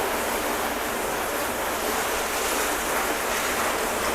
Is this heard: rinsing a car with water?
yes